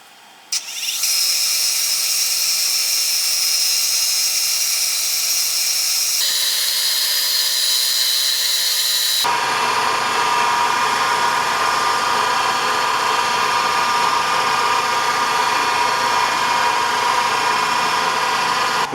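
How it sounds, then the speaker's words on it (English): Steady high-pitched whine and grind of a milling machine cutting across a metal plate in a tool and die shop, loud and continuous, with a shift in pitch partway through as the cut changes. "I gotta make a pass or two on this milling machine"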